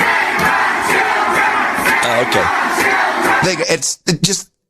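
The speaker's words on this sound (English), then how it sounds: "This is 100 kids in the halls at CNN with signs, Pizzagate." About 100 kids crowded in the halls at CNN with signs, chanting together loudly and continuously before the chant breaks into short bursts, with a voice briefly speaking.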